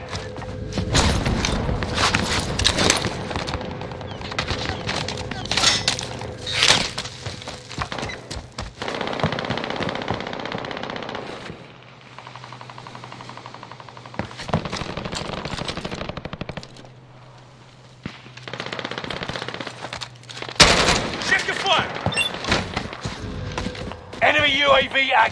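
Rapid automatic gunfire bursts and single shots in the video game Call of Duty Warzone, fairly loud and repeated, mixed with game announcer voice lines and player chatter.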